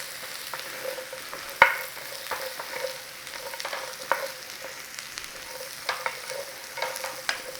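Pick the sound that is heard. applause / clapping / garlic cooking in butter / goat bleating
garlic cooking in butter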